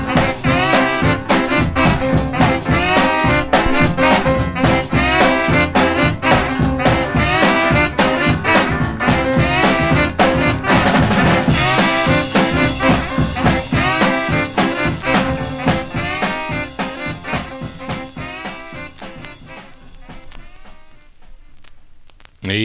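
A 1956 doo-wop 45 record plays as full-band music with lead vocals, loud and rhythmic, and gradually fades out over the last several seconds.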